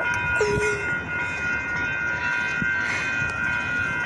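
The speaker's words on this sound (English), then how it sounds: "oh, it's the Amtrak, Amtrak, Amtrak, Amtrak." An Amtrak passenger train passes at close range, a loud continuous rumble with steady tonal ringing, a short horn-like tone near the start and some rail clatter, with no talking.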